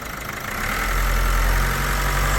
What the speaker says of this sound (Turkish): Hafif gaz ver Devran.